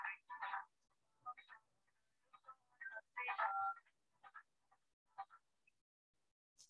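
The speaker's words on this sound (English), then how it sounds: "I don't know how many of you guys recognize this ringtone" A phone ringtone from the Indian series Panchayat plays alone: short, bright electronic chirps and warbling blips in an irregular, stuttering pattern with gaps between bursts, fairly close and moderately loud.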